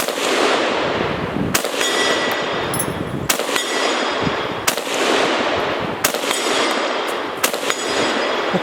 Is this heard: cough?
no